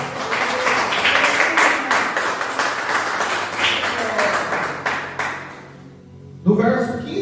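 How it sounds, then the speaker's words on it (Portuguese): Church congregation clapping together during a sermon, a sustained round of applause with rhythmic hand claps that fades out near the end before a voice begins speaking. "Dê uma salva de palmas para Jesus."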